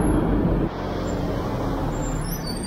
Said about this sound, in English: One of the newer Chinese buses